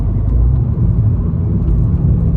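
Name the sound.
hot hatch car engine on track during gear change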